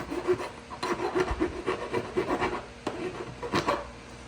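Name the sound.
rasp filing burrs off a cut lamp pipe end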